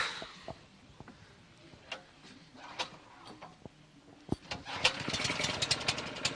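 A vehicle engine started with an old-style pull starter at an outdoor charity event, heard as a few sharp pulls and clicks before the small engine catches and runs, rising in loudness toward the end.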